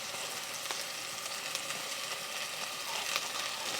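Spicy curry paste and garlic sizzle and fry steadily in a pan for a chicken rendang, a continuous bright crackle with small pops and no voices.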